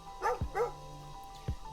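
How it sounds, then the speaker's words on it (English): A small dog gives two quick, sharp yips close by, followed by a short thump and then quiet. A vacuum cleaner is nearby. "Bark, bark."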